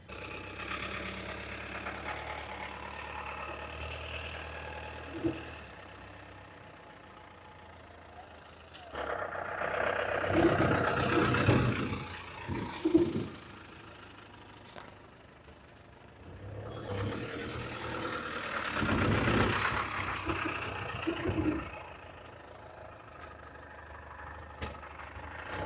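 A 2019 Tata 207 DI EX diesel pickup truck idles with a low, steady rumble, broken by two louder stretches as the engine swells, while people talk nearby.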